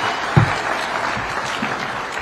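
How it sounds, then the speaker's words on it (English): Audience applause fills a convention hall at the opening of an engineering partnership convention in Kenya, a steady broad wash of clapping from a large crowd with one sharper burst early on. "One more round of applause for His Excellency."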